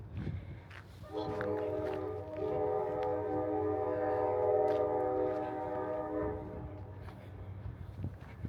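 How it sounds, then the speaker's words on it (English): A train horn blares in a long steady chord for several seconds over the rumble of a passing train at the Grand Canyon rim in winter, heard from a moderate distance. "Trains are coming."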